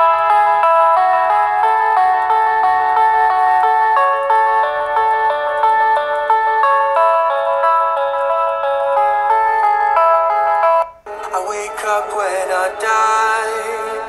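A Xiaomi Redmi Note 9S phone loudspeaker plays a loud, steady ringtone-like melody of bright synthetic tones for about eleven seconds, then switches abruptly to a different, noisier passage of music.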